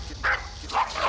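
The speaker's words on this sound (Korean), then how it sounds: "딸기가 짖으니까 그냥 거기에 대해서 짜증이 났어요." A dog that turns defensive and aggressive barks twice in a short burst. The barks sound moderately close, over a low background rumble.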